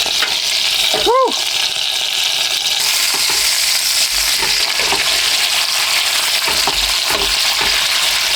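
Food fries and sizzles in a pan while cooking inside a car, a loud continuous crackling hiss at close range with a brief squeak early on.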